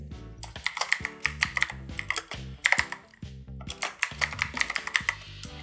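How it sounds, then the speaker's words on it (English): Someone types rapidly on a computer keyboard, close up, with clusters of sharp clicking keystrokes and brief pauses between the bursts. "press F11 on your keyboard"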